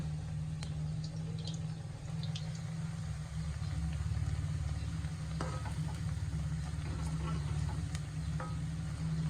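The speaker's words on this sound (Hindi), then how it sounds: "ये फ्राई हो रहे हैं, थोड़ी देर इनको फ्राई होने देते हैं।" Onion pakoras fry in oil over a medium flame, giving a soft, steady bubbling sizzle with a few scattered pops and clicks over a low constant hum, no speech.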